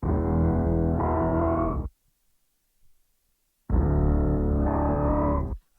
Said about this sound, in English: big processed bassy vocal thing